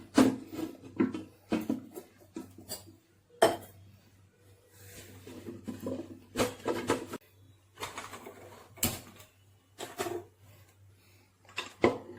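A pressure cooker lid is fitted and closed, producing a series of sharp metallic clanks and knocks close by, separated by quiet gaps.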